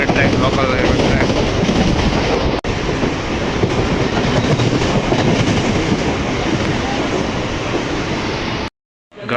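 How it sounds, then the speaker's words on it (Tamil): A Mumbai local fast train rolls through a station, loud and close, with a dense continuous roar of wheels and carriages and steady rail rattle, briefly dropping out near the end. "Railway train, local railway train."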